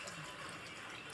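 Water is poured into a pressure cooker over soaked dal, a short, faint splashing trickle with no voices.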